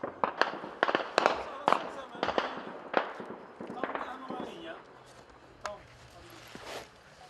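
Repeated sharp cracks and bangs of gunfire and shell explosions during clashes across from Ceylanpınar, near Ras al-Ayn, some close and loud, others more distant, in irregular bursts against a faint rumbling background.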